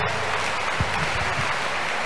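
A congregation at an outdoor church crusade claps together in a dense, sustained wash of applause that carries on steadily from start to finish.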